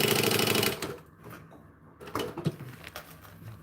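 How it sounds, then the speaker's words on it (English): A sewing machine stitches down fabric in a steady, loud whir for about a second, then stops, followed by quieter handling clatter of the fabric and machine. "I like to stitch these down."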